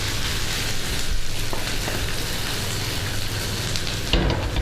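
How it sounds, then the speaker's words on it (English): A hash brown fries in a hot frying pan, giving a steady close sizzle and crackle the whole time, with a brief louder clatter near the end. "get your hash brown, place that back onto the frying pan"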